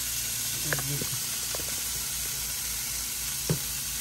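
Croissant slices dipped in egg sizzle steadily on a small griddle, a broad hiss running throughout with a few soft clinks and light handling knocks over it.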